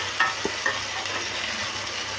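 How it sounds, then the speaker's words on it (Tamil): Salted tomatoes sautéing in a pan for a Karaikudi coconut-milk brinjal curry, a soft continuous sizzle with a couple of light utensil clinks and stirring scrapes, close and without voices. "தக்காளி நல்லா வதங்கட்டும்."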